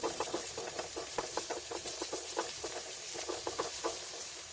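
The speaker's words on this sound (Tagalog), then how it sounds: "gisahin na natin ang ating aromatics tulad ng luya, sibuyas, at bawang" Ginger, onion and garlic sauté in a pan, a steady sizzle with regular rhythmic scraping strokes of a spatula, close and moderately loud.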